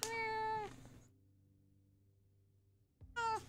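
A Minecraft cat gives two clear meows, one at the start and another near the end, separated by a quiet stretch of low game ambience.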